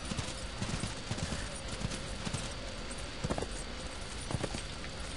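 Hooves clip-clop rapidly and steadily as a horse gallops in the video game Darksiders, loud and continuous over background game noise.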